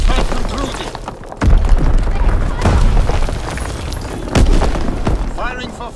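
Bombs explode in the World War II shooter game Call of Duty: WWII, deep booms and bursts of gunfire landing repeatedly amid radio-style voice chatter and battlefield noise.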